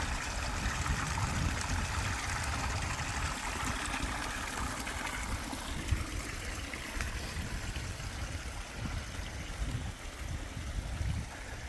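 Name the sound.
water filling and flowing into ecosystem pond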